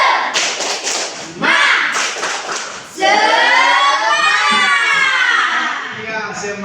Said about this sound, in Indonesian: Sekarang bagaimana kalau kita tepuk semangat?